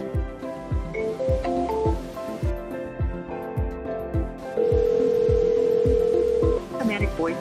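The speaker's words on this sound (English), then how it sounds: "Now let's make a phone call to our first contact." A phone call placed from a CRM app's call tab: dial tone and dialing, then a steady ringback tone, with a rhythmic music-like backing underneath throughout.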